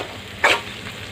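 Dried fish curry ingredients frying in a pan give a steady soft sizzle, broken by one brief louder scrape of stirring in the middle.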